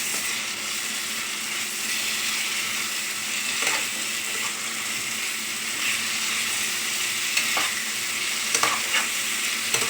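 Grated ginger and spices stir-fry in hot oil for a papad curry, a steady dense sizzle throughout with a few soft scraping stirs near the end, close and even.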